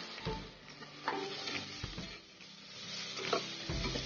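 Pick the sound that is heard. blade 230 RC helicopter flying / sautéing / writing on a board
sautéing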